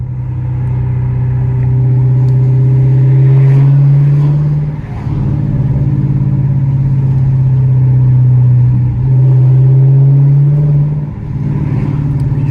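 A Hemi 5.7 V8 revs repeatedly in long, loud pulls, a strong low growl swelling and easing in rhythmic waves from close by, with no voices.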